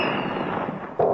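A cartoon cannon fires in a Woody Woodpecker cartoon: steady, noisy rumble building to a single sharp, loud blast near the end, with no talk.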